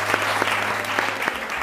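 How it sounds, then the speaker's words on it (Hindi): Live morning-show studio audience applauding the production team, a brisk burst of many hands with a few sharper individual claps standing out and a low steady hum underneath. "अगर आपको वाकई तालियां बजानी है तो प्लीज मेरी टीम के लिए बजा"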